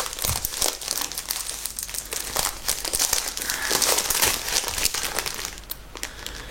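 Protective plastic packaging around a Temu sublimation item crinkles and crackles loudly and close up as it is handled and pulled open, continuous for several seconds.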